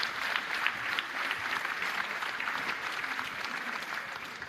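An audience at a Pitch@Palace Australia startup pitch event claps after a pitch for GoNap, a steady, dense round of applause that fills the whole stretch at an even level, with no voices over it.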